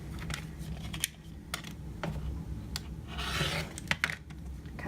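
Soft scraping and snipping as a quilter trims a small sliver of fabric from a half-square triangle block, scattered light clicks and rubs at close range, quiet and without speech.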